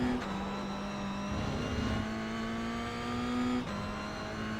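A Toyota GR86 in the iRacing sim at Lime Rock Park accelerates at full throttle, its engine note rising steadily, with a quick dip for a gear change midway and another shift just before the end.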